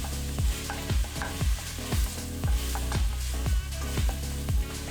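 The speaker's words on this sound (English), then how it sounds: "you're gonna add the onions and you're gonna saute that with the ground turkey" Ground turkey and onions sizzle in a hot pan, with a spatula scraping and stirring in a regular rhythm roughly every half second over a constant close frying hiss.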